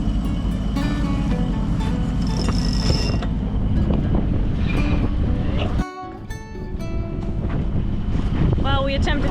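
Wind rushes over a sailboat heading straight into the wind, a steady roaring buffet against the microphone with mechanical rattles and a brief dip midway, while someone talks partway through.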